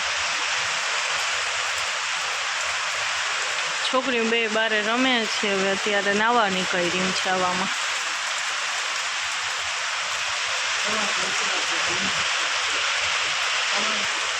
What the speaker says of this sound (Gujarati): વરસાદ પણ ફૂલ ચાલુ થઈ ગયું છે અત્યારે